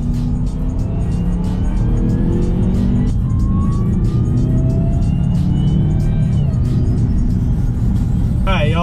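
Car engine pulling hard under acceleration through a 6-speed automatic transmission being tested, a loud continuous roar rising through gear changes, with a pickup truck nearby on the road and occasional speech.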